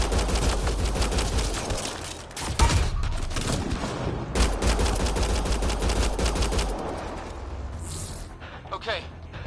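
Sustained gunfire in the video game Mass Effect, dense rapid bursts and loud cracks firing almost without pause, with voices talking over the battle before it thins out at the end.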